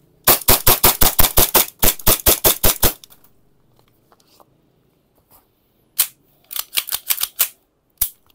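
Airsoft rifle test-fired with a 30-round magazine: a rapid burst of about twenty sharp close shots, a quiet pause, then a few more scattered shots and short bursts.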